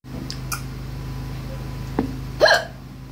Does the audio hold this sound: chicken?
no